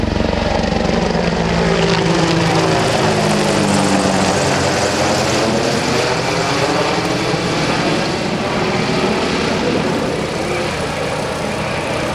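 A military helicopter crewed by Army Guard personnel departs from an air show, its loud rotor and turbine roar filling the air continuously with a shifting, whirring beat as it pulls away.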